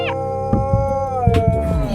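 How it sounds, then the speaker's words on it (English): A dog lets out a loud, close, sustained howl that wavers and slides in pitch for about two seconds. "The dog starts howling."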